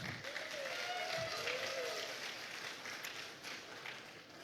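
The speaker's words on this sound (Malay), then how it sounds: "saudara yang berhormat Senektor Syekh Omar, satu tepukan kepada saudara Senektor." A crowd claps at a Pakatan Harapan campaign rally in Johor, greeting a senator. The applause is faint, distant and steady, with a brief voice or cheer rising near the start.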